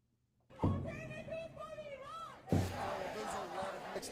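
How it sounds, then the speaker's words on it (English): A massive crowd in Austin cheers and shouts in sudden loud bursts, one after a brief quiet start and another swelling surge midway, with voices and chants blending into a dense roar. "a massive crowd praising President Trump's actions in Iran"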